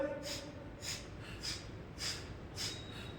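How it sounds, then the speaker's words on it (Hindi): Kapalbhati, a forceful nasal breathing exercise, heard as about six sharp rhythmic exhalations through the nose, evenly spaced at roughly half-second intervals over a low hiss of room noise. "आता है कि नहीं नाक साफ करना? तो बस वही करो, वही है कपालभाति"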